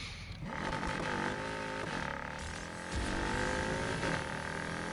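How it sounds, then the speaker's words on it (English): A Porsche Panamera engine in the racing game Need for Speed Heat roars continuously, revving up and shifting with a throaty growl that rises and dips through gear changes, loud and dense throughout. "Yeah, this car sounds awesome."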